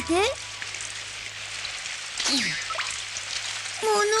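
Steady rain in a Polish-dubbed Doraemon cartoon patters and hisses across a surface, a broad continuous wash with a few brief voiced sounds cutting in over it.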